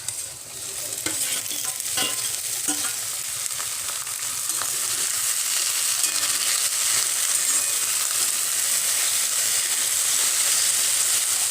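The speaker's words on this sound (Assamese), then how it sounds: "এতিয়া মোৰ পিঁয়াজখিনি ভাজি হৈ গ'ল আৰু এতিয়া মই কচুৰ লতিখিনি দি দিছোঁ।" Taro stolons tossed with fried onions in a hot wok give a loud, continuous hissing sizzle, with intermittent stirring scrapes early on and no voices.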